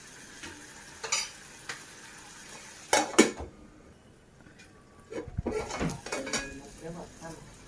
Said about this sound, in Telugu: అల్లం వెల్లుల్లి పేస్ట్ కూడా పచ్చివాసన పోయేంత వరకు బాగా మగ్గించుకుందాం